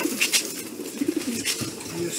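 Racing pigeons in a breeding loft give soft, repeated throaty coos close by, with faint rustling and a voice murmuring quietly in the background.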